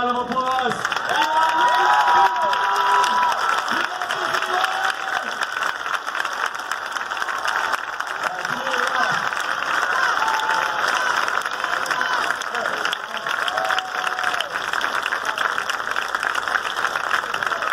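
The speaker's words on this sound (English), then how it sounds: "Would everyone please stand and give Eli a round of applause?" A crowd at a school basketball game applauds and cheers for a young man with cancer during halftime, steady clapping and whoops filling the gym throughout, with some voices shouting over the roar.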